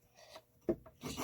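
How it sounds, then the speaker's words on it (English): Hand saw cutting wood for a birdhouse, several quiet rasping strokes in an uneven rhythm, faint and close with no talking. "I want to saw some more"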